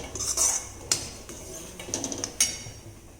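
Rava roasting in a pan is stirred with a metal spoon, giving a few sharp clinks and scrapes against the pan over a soft background hiss.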